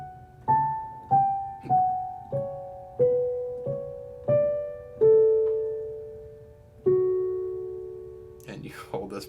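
A piano plays the melody of Satie's Gymnopédie No.1 slowly, with single notes struck about once a second, some held longer, falling gently in pitch and ringing clearly with no voices over it.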